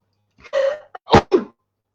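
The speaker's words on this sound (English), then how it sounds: "I'm just sneezing. Morning sneezes." A person lets out a quick series of about three or four sharp morning sneezes up close in an otherwise quiet room, each burst short and forceful with a small gap between them.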